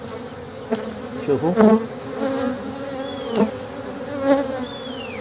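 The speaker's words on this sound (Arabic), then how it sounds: "شوفوا كيف يبدأ النحل يغادر" Honeybees humming steadily as they break away from a cluster balled around their queen, with a brief spoken word over the buzz.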